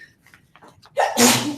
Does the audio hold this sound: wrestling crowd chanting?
no